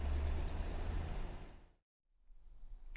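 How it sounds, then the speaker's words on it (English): A Citroen C1 engine idles after a new catalytic converter is fitted, a steady close rumble that cuts out for a moment before the low running sound returns. "So we'll let that run, we'll let that idle, get it up to temperature"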